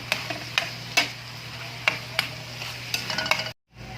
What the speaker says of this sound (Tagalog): ilalaglag na natin yung mais. Sige, gisa na natin yan.